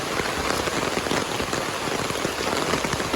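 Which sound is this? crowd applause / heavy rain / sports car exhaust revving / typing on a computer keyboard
heavy rain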